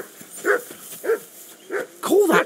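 Dog barking in the video game Kingdom Come Deliverance II: four loud, evenly spaced barks, the last a doubled, rougher burst, heard alone and close.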